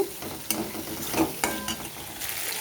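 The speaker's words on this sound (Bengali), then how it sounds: "এবারে এই মশলাগুলোকে একটু ভালো মতন ভেজে নেব, যাতে কাঁচা গন্ধটা না থাকে" Spices and chopped tomato frying in a pan for a vegetarian stuffed pointed gourd dish, a steady sizzle broken by a few sharp stirring scrapes, close by with no talking.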